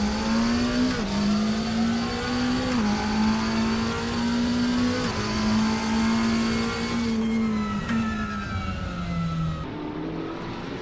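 Lamborghini Temerario GT3 race car in RaceRoom, engine droning loud and close with a steady high pitch that dips and rises through gear changes, then tapers off as revs fall.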